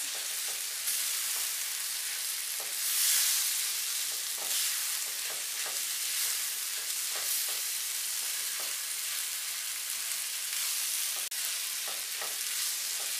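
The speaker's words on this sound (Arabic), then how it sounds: "صافي نخلط مزيان المكونات" Ingredients with mushrooms and olives being stirred in a hot pan: a steady, loud sizzle of frying with repeated soft scraping strokes of the spoon at an irregular rhythm, close up and with no voices.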